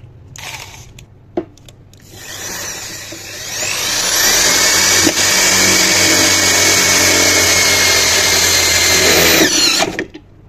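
A Danlex drill bores a hole, its motor spinning up after a few seconds into a loud, steady high whine that holds for several seconds before cutting off abruptly.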